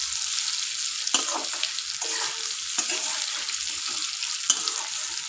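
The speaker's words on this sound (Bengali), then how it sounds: "এই যে দেখুন, প্রায় আলুটা ভাজা ভাজা হয়েছে।" Potatoes frying in a pan for a jackfruit-seed curry sizzle steadily up close, broken by several sharp scrapes and clacks of a spatula stirring them.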